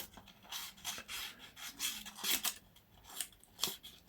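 A knife blade slicing across thermal receipt paper, a series of short dry scraping rasps repeating irregularly at close range, no voices.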